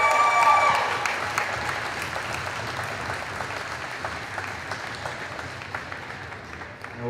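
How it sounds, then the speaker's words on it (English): A crowd gives a big, sustained round of applause at a sports banner ceremony as team members are introduced, steady clapping filling the whole stretch and slowly easing off. "Let's have a big round of applause."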